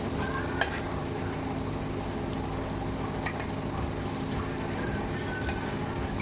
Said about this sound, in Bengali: এই যে আলুগুলো আমার ভাজা ভাজা প্রায় হয়ে গেছে